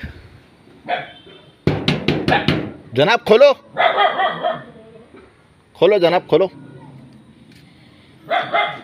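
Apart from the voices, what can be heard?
dogs barking inside a mosque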